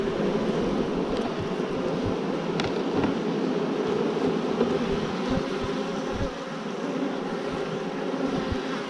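Honey bees swarming around a nuc box during a hive split, a dense continuous buzz filling the air close by, with scattered faint knocks and taps underneath.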